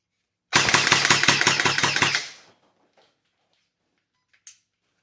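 A BK-2S AEG Nerf blaster fires a quick full-auto burst of about a dozen sharp, mechanical shots in even rhythm, close and loud, then stops into near silence with one faint click afterward.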